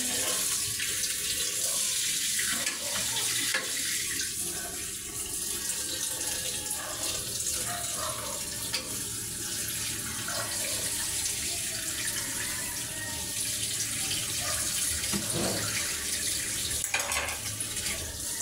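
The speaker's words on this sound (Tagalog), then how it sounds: "Lagyan na po natin ng tubig." Water runs steadily from a kitchen tap into a pot for a budget carbonara, a continuous close splashing stream lasting throughout with no talk.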